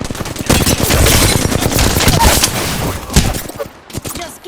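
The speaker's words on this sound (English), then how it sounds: "I'm getting shot at" Gunfire in Apex Legends: dense, rapid automatic bursts and overlapping shots, loud and close, running almost without pause before thinning out near the end, with game voice lines faintly underneath.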